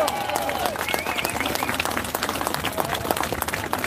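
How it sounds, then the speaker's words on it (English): An audience claps and applauds steadily through the whole moment, a dense, even wash of hands from a full room with no pauses. "Big round of applause, please."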